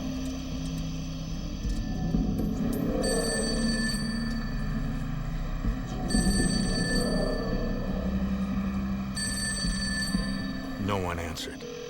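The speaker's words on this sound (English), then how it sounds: "He called the number again." A telephone rings repeatedly with no answer, bursts of electronic ringing separated by pauses over a steady background hum, and a voice speaks over it.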